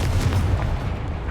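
Confringo fire-blast spell explosion in the game Hogwarts Legacy, a heavy low rumbling boom filling the short moment, loud and close.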